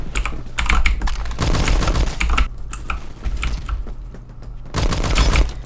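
Bursts of rapid M3A1 submachine gun fire in a video game, several quick strings of shots separated by brief pauses, loud and close.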